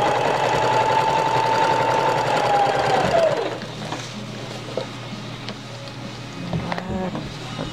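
A sewing machine stitches an elastic casing on a cloth pocket diaper, running steadily and loud for about three seconds, then stopping and leaving faint handling noises and small clicks.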